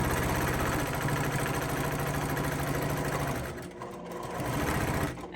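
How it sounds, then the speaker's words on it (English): A sewing machine stitches along a foundation paper piecing line, running as a steady, close mechanical whir for about three seconds before briefly slowing and starting again, with no talking. "back tack a couple stitches at the very first"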